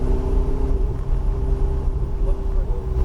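A car engine drones at a steady, loud pitch on the New Jersey Motorsports Park racetrack, heard from inside the cabin with a continuous low rumble and a sustained tonal whine.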